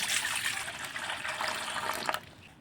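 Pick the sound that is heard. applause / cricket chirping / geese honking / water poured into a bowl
water poured into a bowl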